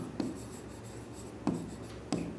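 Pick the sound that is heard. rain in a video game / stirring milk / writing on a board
writing on a board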